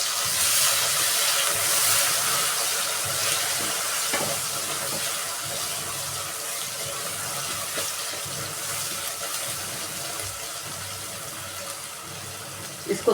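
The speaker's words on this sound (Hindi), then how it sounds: "अब इसके अंदर हम 1 टीस्पून अदरक लहसुन का पेस्ट डालेंगे। डाल के इसको थोड़ा सा भून लेंगे।" Onions frying with a spoonful of ginger garlic paste in a pan for a Hyderabadi mutton curry, a steady, moderately loud sizzling hiss with faint stirring scrapes throughout.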